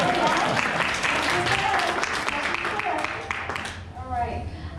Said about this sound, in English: Yes, you can clap for Commissioner Garcia.